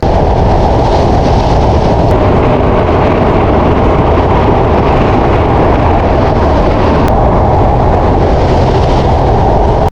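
Jahanabad Express on the Khulna–Dhaka route via the Padma bridge, heard from inside as a loud, steady rumble of wheels and carriages running at speed without letup.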